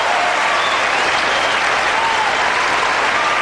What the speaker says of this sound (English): Crowd applauding here